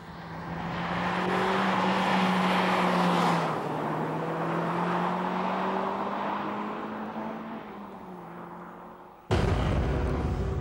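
A Renault Clio RS hot hatch being driven hard: a loud, steady engine drone whose pitch slowly rises and falls, then cuts abruptly to a different, harsher roar near the end.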